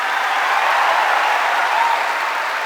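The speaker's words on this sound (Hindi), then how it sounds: "प्लीज इतनी जोर से तालियां बजाना इन सबके लिए कि ये पूरा स्टेडियम मिल जाए।" A large crowd in a stadium gives loud, sustained applause at a success day event, a thick unbroken roar of clapping that stays even throughout.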